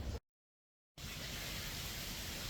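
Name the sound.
rain storm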